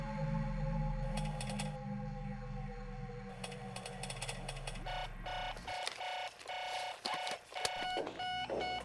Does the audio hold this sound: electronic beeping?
yes